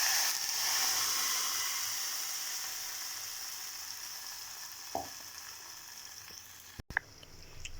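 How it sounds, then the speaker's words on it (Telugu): Soaked chana dal batter is poured into a hot oil tempering with a pinch of asafoetida, giving a steady close sizzle that slowly fades, followed by a few soft stirring clinks near the end. "తిరగమా తెగిపోయింది కదా, దాంట్లో పోసేస్తాను."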